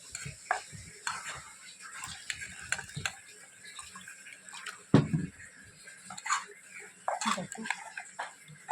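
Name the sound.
water added to hot pan, sizzling and stirring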